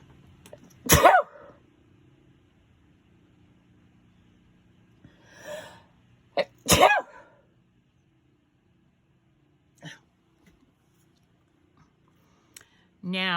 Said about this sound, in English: oh, I'm gonna sneeze again, my goodness.